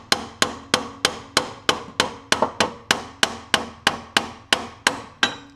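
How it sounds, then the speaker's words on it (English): A hammer strikes a car shock absorber on a Honda or Acura to separate it, about fifteen sharp metallic hits in a steady, even rhythm, loud and close with short ringing decays. "what I do, I take a hammer, just hit on it."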